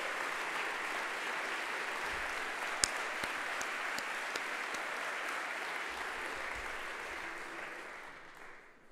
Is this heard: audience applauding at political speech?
yes